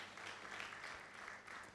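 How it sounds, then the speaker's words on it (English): An audience claps steadily at an induction ceremony into the medical and dental professions, a soft, even patter of many hands that holds for the whole moment without a break. "A round of applause for him, please."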